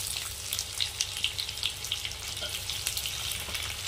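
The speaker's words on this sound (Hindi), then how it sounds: "प्याज अच्छी तरह से हम भून लेंगे" Onions frying in oil with cumin seeds, a continuous crackling sizzle with small irregular pops and a few stirring clatters, close and fairly loud, no talking.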